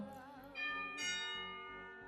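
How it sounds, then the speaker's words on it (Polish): A house doorbell with a church-organ-like tone rings out in sustained, layered bell chimes, a couple of strikes swelling and overlapping, loud and close with no talk. "to był mój, mój dzwonek do domu. Jest on bardzo specyficzny. Brzmi jak jakieś organy kościelne"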